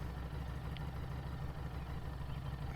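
A Harley-Davidson Street 500 motorcycle fitted with a slip-on exhaust idles high, a steady low engine hum running evenly throughout at moderate distance with no talk over it.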